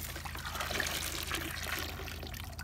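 Water drains from a homemade gold trap used for prospecting, a soft continuous trickle and dribble of liquid, faint and close, with no voices.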